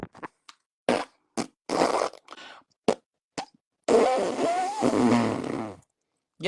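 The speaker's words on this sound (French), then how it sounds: "J'ai pété." Several short, loud blasts of a fart come in quick bursts, ending in a longer, stretched rumble, close to the listener and heard alone without talk.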